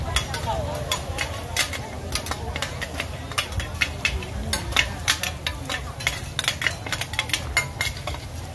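Oyster omelette stir-fried nonstop in a giant pan at a busy Nakhon Pathom street stall, with a steady loud sizzle under rapid repeated scraping and clanking of the spatula against the pan.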